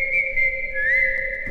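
An eerie whistled melody in the style of the Venezuelan legend El Silbón, heard in an Among Us game: a single steady, piercing whistled tone that bends and wavers partway through, alone and close.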